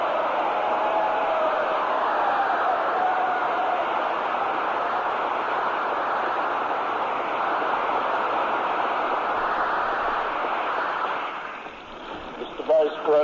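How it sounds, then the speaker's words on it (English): A long, dense round of applause greets the President of the United States before a joint session of Congress. It holds steady for about eleven seconds, then thins out as a voice begins. "A round of applause."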